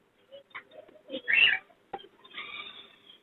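Fancy pigeons cooing at a Sunday bird market in Chichawatni, several soft coos and a louder burst near the microphone, with brief rustles in between.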